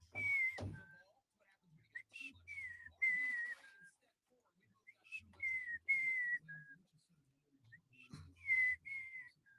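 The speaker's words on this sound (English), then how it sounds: "That's the best I can whistle." A person whistles short melodic phrases in three bursts separated by pauses, with a thump near the start and faint knocks in between.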